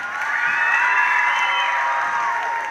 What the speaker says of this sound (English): applause for Delilah